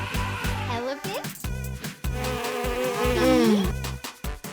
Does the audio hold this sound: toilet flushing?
no